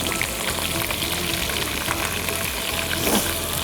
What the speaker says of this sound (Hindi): और इसको भून लेते हैं ऑयल में।